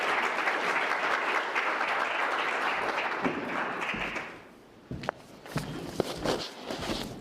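Audience applause welcoming a speaker to a lecture, steady dense clapping for about four seconds that fades out, followed by footsteps and a few thumps as he walks up.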